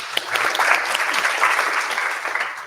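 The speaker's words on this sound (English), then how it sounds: "I want to give a great big warm round of applause for you guys." An event audience applauds in a sustained round of clapping, moderately loud and steady throughout, with no talking over it.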